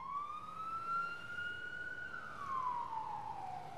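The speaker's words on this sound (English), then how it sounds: "Probably the most annoying thing that's in there is this emergency siren," Emergency siren in the United States, one long rising then falling wail heard from a distance, steady and fairly faint over a broad hiss of background noise.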